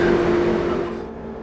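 Class 150 diesel train running, heard on board, a steady low engine drone with a tonal hum that fades gradually quieter toward the end.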